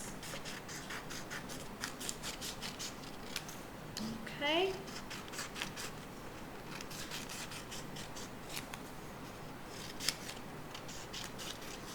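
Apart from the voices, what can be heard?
scissors cutting paper strips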